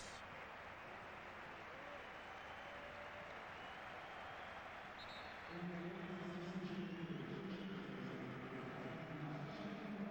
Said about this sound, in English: Great performance from Effenberg today and gets a deserving round of applause